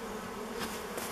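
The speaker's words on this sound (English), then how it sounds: "That's a male bee." Drone honeybee buzzing loudly and steadily up close inside an old beehive left unopened for over thirty years, a continuous insect drone with no talk.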